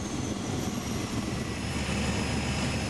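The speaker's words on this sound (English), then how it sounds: "These Cessna airplanes are comparatively cheaper than other single-engine aircrafts." A steady, droning Cessna single-engine propeller airplane hums continuously in flight, a loud low rumble with a thin high whine above it.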